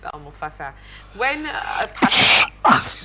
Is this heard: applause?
no